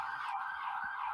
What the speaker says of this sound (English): It's the only sirens we hear around here, Eric, on this show.